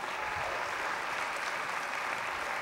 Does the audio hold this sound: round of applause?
yes